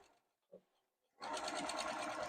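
A sewing machine stitches down fabric scraps for rainbow quilt squares: after a quiet pause with a small bump, the motor starts and runs in a loud, steady, rapid whir close by.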